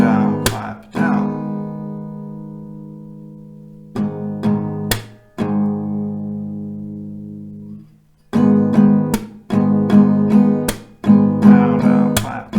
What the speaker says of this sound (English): Down, down, clap, down, down, down, clap, down, down, down, clap.